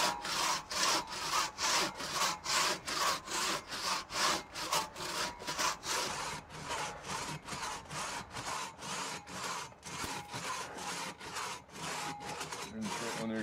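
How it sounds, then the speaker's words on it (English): A single buck crosscut saw rips through a log in fast, even push-pull strokes, each rasping stroke loud and close, keeping a quick steady rhythm throughout. "You're going to use every inch of you and every ounce of you to pull this saw back and forth as fast as possible."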